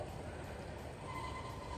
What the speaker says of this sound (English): our passenger service again comes to a stop automatically at the end because of the ABC shuttling operation that I have installed here